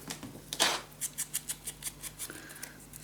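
Scissors snip through paper for a handmade mini album in a quick, even series of about a dozen crisp, close cuts, heard alone in a quiet room.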